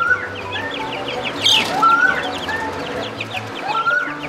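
Young quail chicks and turkeys calling in a homestead pen, a busy mix of repeated chirps, peeps and clucks heard close, with occasional louder calls over a low steady background hum.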